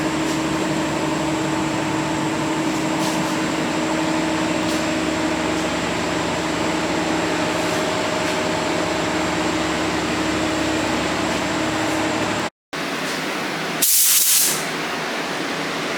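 A steady, loud spray-gun hiss drifts across the shop while base-coated car parts sit waiting for clear coat, continuing evenly before a brief cut and a sharp burst of spray near the end.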